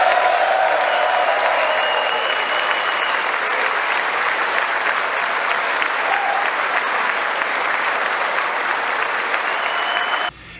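A large audience applauds steadily and loudly throughout a speech to the US Congress, a dense, continuous wash of clapping that cuts off abruptly at the end.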